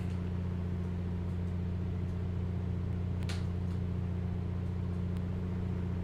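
Piper 250 piston aircraft engine in Microsoft Flight Simulator 2024 held steady at 1800 RPM during a run-up check, a loud continuous low drone with a fixed throb and no voices.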